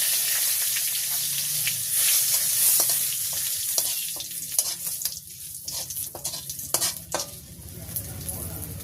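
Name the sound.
whole cumin, dried chillies and bay leaves frying in oil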